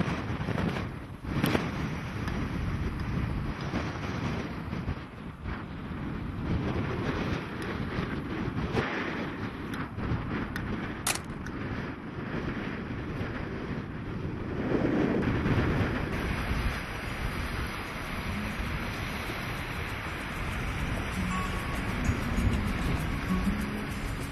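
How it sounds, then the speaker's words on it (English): Strong wind buffeting the microphone on the Cape Cod coast, with a continuous roar of ocean surf underneath and gusts rising and falling throughout, no voices. "it is wicked windy up here"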